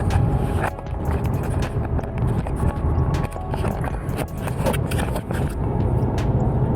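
A car drives and turns around, making a steady loud rumble of engine and road noise from inside the cabin, with faint scattered clicks and bumps throughout and no clear talking.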